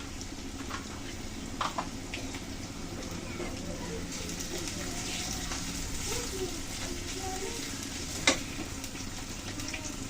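Potato pieces frying in hot oil with turmeric, ginger and chili powder, a steady low sizzle with occasional spoon scrapes and stirring clatter, close by, while birds chirp faintly in the background.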